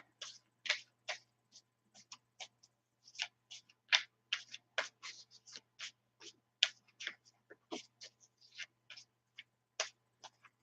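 Tarot cards are shuffled by hand in a quiet room, a quick irregular series of soft crisp riffling snaps and taps, close and alone.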